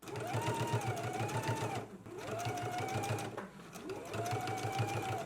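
A sewing machine runs close and loud while basting the collar onto a jacket, a fast, steady mechanical whirring in three long runs with brief dips between them.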